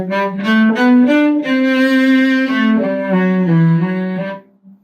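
Cello playing measures 23 to 25 of Jean-Baptiste Bréval's Sonata in C, a sustained bowed melodic phrase with slurred notes swelling and fading, played solo and close before a brief silence.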